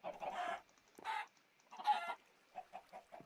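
Minecraft chickens cluck in short bursts, three louder squawking clucks followed by quick softer clucks, close and otherwise quiet.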